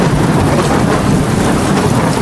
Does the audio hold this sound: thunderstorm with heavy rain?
yes